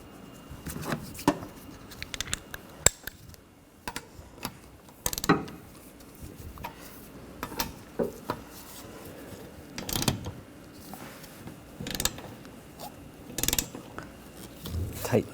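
A ratchet tightens the nuts on the wiper arms of a 2013–2019 Ford Escape, heard as short, close bursts of metallic clicking separated by pauses, with some faint handling noise between strokes.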